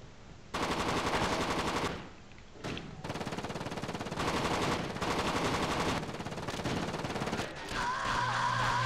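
Sustained rapid machine-gun bursts ring out in the co-op shooter Tom Clancy's Rainbow Six: Lockdown. The loud, dense fire runs in long stretches broken by brief pauses, and an electronic tone joins near the end.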